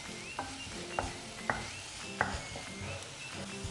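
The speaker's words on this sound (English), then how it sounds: "Keep the flame medium to low and fry the onion." Onion fries in coconut oil over a medium-low flame for a Goan moringa leaves dish, a continuous gentle sizzle broken by a few sharp spoon scrapes and knocks against the pan.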